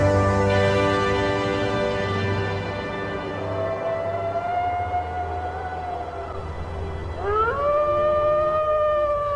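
A wolf howls in long, sustained rising and falling tones, loud and clear, with a second howl starting to swell near the end, carrying across an open evening landscape.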